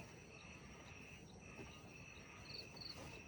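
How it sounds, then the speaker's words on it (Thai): Steady, continuous cricket trilling fills the night air, a dense even buzz with a faint higher chirp pulsing through near the end; no voices. "เสียงแมงจิงรีดมันห้อง"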